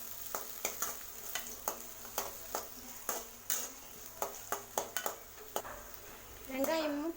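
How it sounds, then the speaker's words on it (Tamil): Shallots and two green chillies sautéing in a pan for a green peas curry, with a steady frying hiss under regular, evenly spaced scrapes of a spatula stirring against the pan, close by. "இது 3ஐயும் நல்லா வதக்கி விடுங்க."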